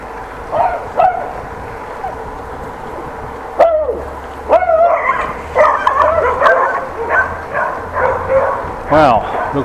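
Several dogs bark, yip and howl at a moderate distance in irregular bursts, with whining cries mixed in over a low background hum.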